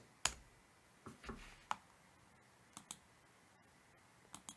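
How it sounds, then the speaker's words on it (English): Sparse, faint clicks and taps of a computer keyboard and mouse while editing a website, scattered irregularly in a quiet room. "Click here. And start typing."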